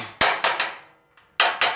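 A sway bar bracket being tapped into place on a 1968-72 A-body Chevelle, five sharp, close metallic hammer taps in two quick groups with a short pause between.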